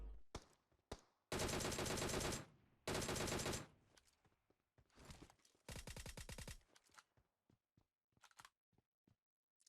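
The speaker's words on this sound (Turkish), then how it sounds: "Buradan birisi sıkıyor." Gunfire in the battle royale game PUBG Mobile: several loud bursts of rapid automatic fire, the longest lasting about a second, mixed with scattered single shots and faint clicks between them.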